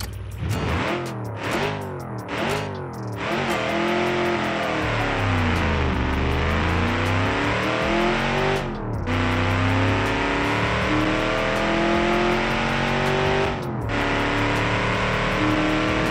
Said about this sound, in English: it's a small engine, so yeah, let's see how this thing will perform